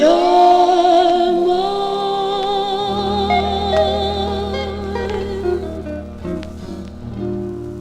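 A 1957 doo-wop record spinning on vinyl, sustained vocal harmonies over a steady backing with the final notes ringing out as the song closes.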